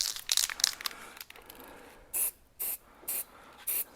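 Spray paint goes onto a Jaguar XKR rear brake caliper. Rustling and handling noises come first, then four short, evenly spaced bursts of hissing aerosol close to the mic.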